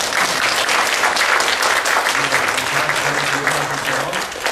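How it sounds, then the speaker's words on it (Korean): Steady applause from a crowd, dense and continuous clapping filling the whole stretch at even loudness. "박수 한번 하겠습니다."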